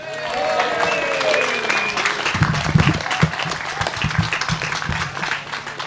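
A union anniversary celebration crowd applauds and cheers, opening with whistles and shouts over clapping, then settling into steady, dense applause with some voices continuing underneath.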